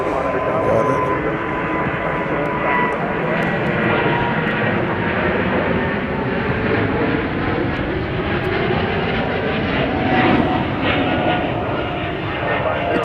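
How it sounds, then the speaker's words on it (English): An EVA Air Cargo aircraft taking off at Chicago O'Hare, a loud continuous engine roar sustained throughout with the pitch slowly shifting, with no break in the noise. "we've got a pretty big aircraft taking off."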